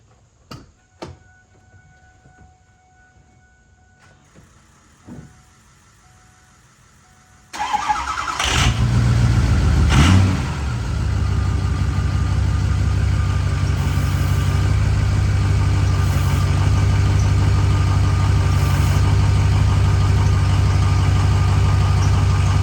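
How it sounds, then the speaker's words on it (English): A Ford F350 pickup truck cranks briefly and fires up, then settles into a steady, loud idle that runs on alone after a few faint clicks and knocks. "I gotta drive the truck forward, take the wheel chocks out"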